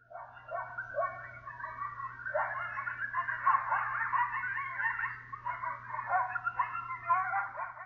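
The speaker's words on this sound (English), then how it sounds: "At night, coyotes howl and emit a series of short, high-pitched yips." A chorus of high, wavering yips and short yelps from several coyotes, overlapping continuously with a steady low hum underneath.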